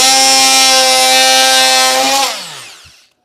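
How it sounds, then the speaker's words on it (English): A power tool cutting out a piece of interior window sill trim, a loud, steady high-pitched whine that runs for about two seconds and then winds down to silence, with no talking. "We'll cut the rest of that piece out."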